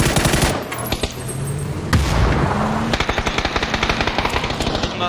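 Automatic rifle fire in PUBG, loud rapid bursts of close shots in quick rhythmic strings, with a heavier boom near the middle and continuous firing that carries to the end.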